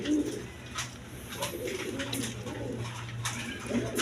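Several pigeons, including Mukki pigeons, coo in low throaty rolling phrases nearby, with soft background clatter and faint hiss between calls.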